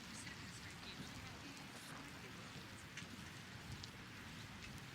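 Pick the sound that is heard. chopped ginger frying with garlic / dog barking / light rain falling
light rain falling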